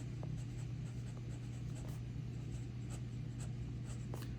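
A broad fountain pen nib scratches across paper in faint, soft strokes, with small irregular ticks over a low background hum.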